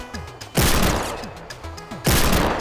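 Video game guns firing at a shooting range: two loud, close bursts of rapid gunfire, each trailing off, with quieter game sounds between them and no talk.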